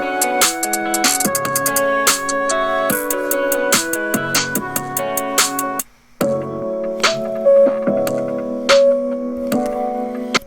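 A trap beat transition made in Soundtrap: a looping electronic pattern of melodic synth notes with crisp ticking hi-hats, cutting out briefly to silence before the next section resumes with a shifted sound, all music with no voice.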